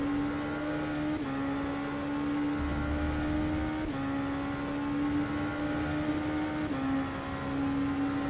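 Engine drone from GTE race cars lapping Monza in a racing video game, a steady loud tone that drops and climbs at gear shifts, with no voices.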